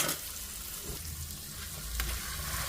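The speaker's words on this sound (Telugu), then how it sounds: "ఈ పచ్చడి అంతా మనం అందులో వేసుకొని కలిపేసుకోవాలి" Mango pickle being stirred into a hot tempering in a pan makes a steady close sizzle, with a low bubbling rumble underneath and an occasional utensil scrape, and no voices.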